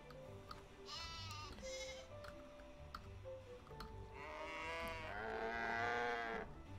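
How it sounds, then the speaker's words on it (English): Cattle on a farm in the video game My Time At Portia moo in several drawn-out calls, with some bleat-like cries mixed in, moderately near over a quiet game background and no speech. "I got cows too."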